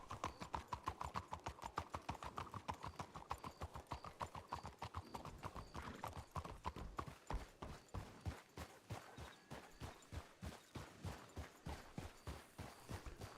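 Horse hooves clip-clop steadily and loudly in Red Dead roleplay, a continuous walking rhythm of close hoofbeats, with a brief whinny-like tone early on.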